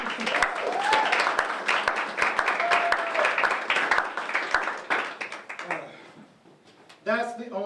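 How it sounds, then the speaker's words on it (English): A comedy club audience greets a comedian taking the stage with scattered, fairly close clapping that thins out, followed by the comedian beginning to talk. "That's the only applause I'll get tonight."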